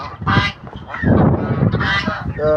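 Indian runner ducks, grown to full size, quack in harsh, repeated bursts on a poultry farm, loud and close among other fowl.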